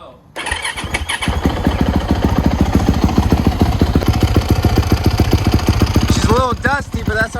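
A dirt bike's engine turns over on its electric starter and catches, running in a loud, steady, rapid thump close by before cutting off near the end, with voices speaking over it.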